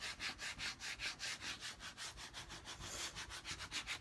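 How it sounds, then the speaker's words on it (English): A small plastic scraper squeegee rubs back and forth over transfer tape laid on a galvanized metal sign, making a steady series of soft, rhythmic scraping strokes, close and fairly quiet, with no voices. "I'm smoothing this down. This is just my little scraper, squeegee, whatever you want to call it."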